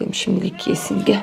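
A hungry cat meows repeatedly in short, insistent calls close by while a person talks over it.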